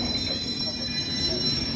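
A London Underground Circle Line train from 1949 rolls steadily along with a constant rumble and a faint high whine, heard alone and close from inside the carriage.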